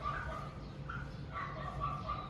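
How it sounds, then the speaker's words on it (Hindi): A small dog barks in short, fairly distant bursts over steady outdoor background noise in Nongkhai province, Thailand; no one speaks. "वो कुत्ता वहाँ भौंक रहा है, छोटा वाला सबसे ज़्यादा शरारती है।"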